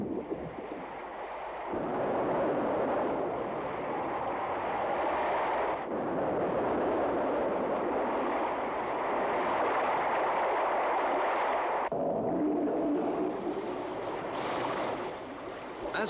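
A Trident missile launched from a submarine rises on compressed gas, a loud sustained roaring rush with broad noisy texture, shifting in character at a few abrupt points and continuing steadily without talk.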